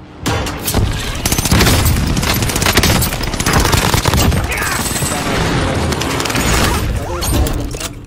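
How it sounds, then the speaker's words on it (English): Dense, continuous barrage of explosions and rapid gunfire-like blasts from a precision airstrike in the video game Call of Duty Warzone, loud and sustained for the whole stretch with crashing, shattering booms. "Enemy precision airstrikes."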